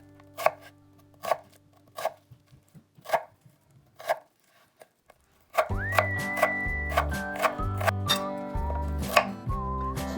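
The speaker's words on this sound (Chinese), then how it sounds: "洋葱切成粒" A knife dices onion on a cutting board with about five sharp, evenly spaced chops. The chopping then stops and music comes in.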